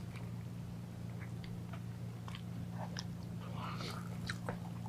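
Someone chews curry sauce with seared dumplings, quiet crunchy bites and mouth sounds scattered over a low steady hum, close and soft.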